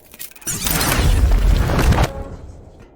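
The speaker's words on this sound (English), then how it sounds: "The cannon overheated and took a bit longer to spew its deadly charge, impacting a few seconds later." An overheated cannon in the video game Verne: The Shape of Fantasy fires and then impacts, heard as a loud, sustained booming blast lasting about a second and a half before cutting off abruptly, with no one talking.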